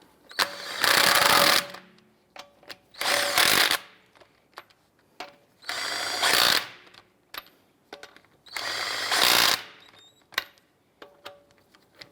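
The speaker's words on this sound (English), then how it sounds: "get all of our lug nuts started by hand, and then we'll snug those down" An impact wrench snugs lug nuts onto a Cadillac SRX wheel in several loud, rattling bursts of about a second each, separated by quiet gaps with small clicks and handling noises.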